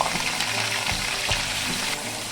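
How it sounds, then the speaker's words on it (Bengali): Black cumin seeds and drumsticks frying in hot oil in a pan while preparing a Bengali data chorchori, giving a steady, close crackling sizzle with brief stirring clatters and no voices. "তেলটা সুন্দরভাবে গরম হয়ে গেছে এখন অ্যাড করে দিচ্ছি কালো জিরে"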